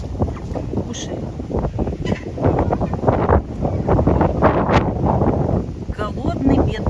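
Very strong wind buffeting outdoors near a chicken coop, a loud continuous rush with gusty surges and microphone rumble throughout, no clear voices.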